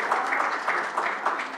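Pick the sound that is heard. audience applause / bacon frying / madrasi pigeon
audience applause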